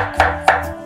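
Two crisp knife strikes on a cutting board, close and evenly spaced, as garlic is finely chopped, with a softer tap trailing after.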